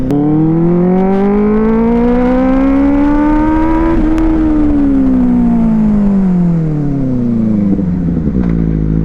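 A superbike engine drones steadily and loudly throughout while the bike is ridden, its pitch climbing gradually then easing back down, with a brief dip near the end.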